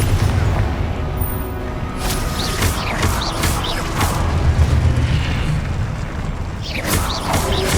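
Blasting-spell explosions from a Hogwarts Legacy boss fight, a steady roar of booming impacts and crackling bursts running throughout, loud and dense, with faint voices underneath.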